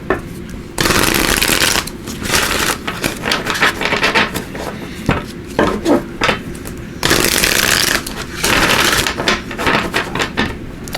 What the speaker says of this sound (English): So let's give these a shuffle.